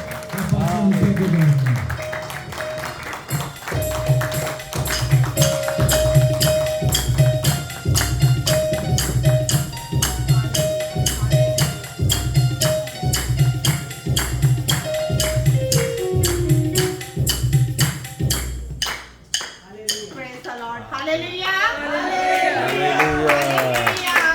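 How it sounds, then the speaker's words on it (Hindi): Steady rhythmic clapping from a Pakistani Punjabi-Urdu church congregation in San Jose, keeping time with music that carries a sustained tone over it for about twenty seconds, before a voice takes over near the end. "इसी तरह तालियां बजती रहें, तालियां बजती रहें"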